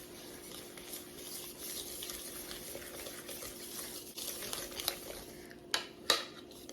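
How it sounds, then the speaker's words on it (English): Banana egg-substitute batter being stirred in a bowl: faint, steady scraping and sloshing from a utensil, with a couple of louder clinks near the end, quiet and without talking. "Okay, stir it up."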